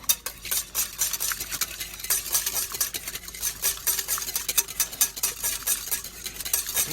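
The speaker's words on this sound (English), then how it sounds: "We'll mix that up." Crab cake paste of mustard and Worcestershire sauce is stirred briskly in a bowl, making fast, wet, uneven scraping and clicking close by, with no voices.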